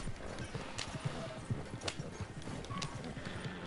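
Horse hooves clip-clop at a steady trot in the video game Red Dead Online, an even rhythmic patter heard alone at moderate volume.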